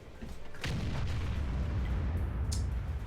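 A single deep boom of a tank gun firing at an E50M in World of Tanks, followed by a sustained low rumble and a faint sharper crack later on.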